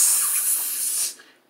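A can of pepper spray releasing one loud, sharp hissing burst that holds for about a second, then cuts off abruptly, close up and alone.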